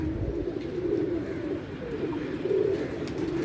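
Low, soft pigeon cooing repeats in a gentle rolling rhythm, several calls close by over a quiet background.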